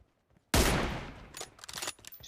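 A loud, close sniper shot in an online shooter game cracks sharply, followed by a second report and a scatter of quieter game noises trailing off, with no talk.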